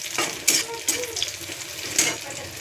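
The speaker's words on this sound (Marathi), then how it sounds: "लसूण असा कांद्यामध्ये परत परतून घ्यायचं" Garlic stir-fried with browned onions in a pan gives a steady close sizzle, broken by a few louder scraping stirs of the spoon, with no talking.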